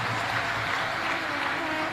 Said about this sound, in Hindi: एक बार जोरदार ताली बजाकर उनके लिए साधुता